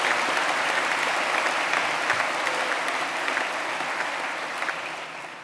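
A graduation audience applauds award winners with steady, dense clapping that fills the room, loud and sustained, then slowly tapering toward the end with no voices over it.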